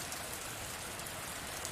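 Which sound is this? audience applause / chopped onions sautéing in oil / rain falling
rain falling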